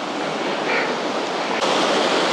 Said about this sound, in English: It's like a triple waterfall.